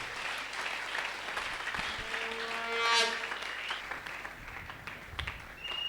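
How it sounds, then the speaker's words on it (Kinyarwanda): Audience at a church prayer gathering clapping to welcome a singer, a faint spread of applause rising briefly and fading, with a tonal musical swell and scattered voices in the room. "Murabikunze cyane, mubigaragaze mu gukoma amashyi tumwakira."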